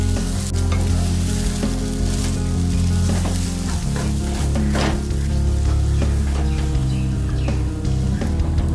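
Egg chop filling of chopped coriander and lemon juice sizzles steadily in a hot pan while being stirred, with continuous close frying crackle and scattered spoon scrapes, no voices.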